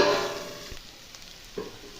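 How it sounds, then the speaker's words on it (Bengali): Sliced potato and pointed gourd fry in oil in a covered pan over a low flame. A soft, steady sizzle is heard alone, with a couple of faint clicks and no voices. "আর চাপা দিয়ে এটা আমি সেদ্ধ হওয়া অবধি ভেজে নেবো"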